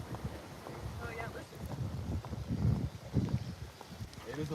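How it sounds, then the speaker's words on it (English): Wind outdoors at a kangaroo reserve, gusty buffeting on the microphone that rises and falls under a person talking. "It is a little windy"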